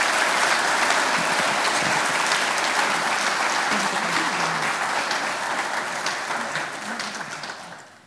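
A hall full of people applauds pupils at a municipal day ceremony in Čajetina, a bright continuous clatter of hands that holds steady and fades out at the end.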